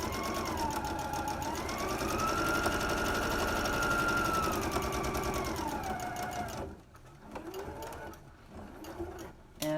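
A sewing machine back stitching a fabric face mask runs in a steady, close mechanical whir that rises and falls in pitch, then stops and restarts in short bursts near the end.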